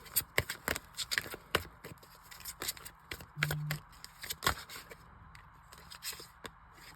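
Tarot cards shuffled by hand at close range, a quick series of crisp riffling and sliding bursts that come in uneven clusters, with brief pauses between them.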